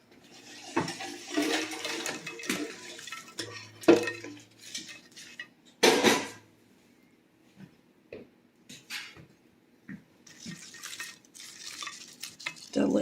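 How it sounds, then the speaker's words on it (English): A fork whisks a milkshake by hand in a cup, making quick irregular clinks and scraping stirs in bursts with quiet gaps and a few sharper knocks. "I just want you to see how you make a hand mixed milkshake with a fork"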